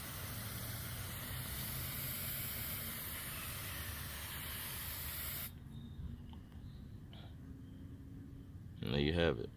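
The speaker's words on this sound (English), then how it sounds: "I just want to spray the whole thing." Roundup for Lawns weed killer sprayed over a lawn: a steady, close, airy hiss for about five seconds that then cuts off, followed by quiet handling noises.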